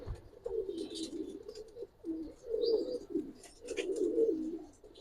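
Pigeons at a Bangladeshi pigeon seller's, including a black-necked pair, cooing in repeated low throaty bursts across the whole stretch, close and fairly clear, with a few faint higher chirps above and no talking.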